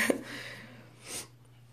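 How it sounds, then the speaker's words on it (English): Two quick congested sniffs from a person with a bad cold, close and fairly quiet, the first short and sharp, the second longer about a second later, over a faint steady hum. "I have a really bad cold if you can hear me sniffling."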